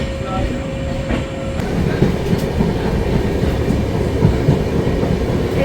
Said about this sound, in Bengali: এবার আমি একটু ফিল করতে পারছি ট্রেনটা শিলিগুড়ি থেকে ছেড়েছে